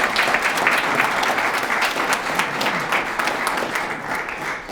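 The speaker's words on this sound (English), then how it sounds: "Give them all a round of applause" Sustained applause from a banquet audience honoring golf section champions at a Utah PGA awards event, dense and steady throughout with no talking over it.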